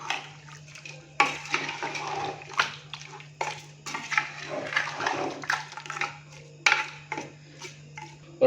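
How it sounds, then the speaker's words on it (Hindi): A spoon scrapes and clinks around inside a pot of nalli biryani rice mixture in irregular strokes, close by, with a low steady hum underneath. "पानी डालने के बाद अभी हम इसको अच्छे से मिक्स करेंगे।"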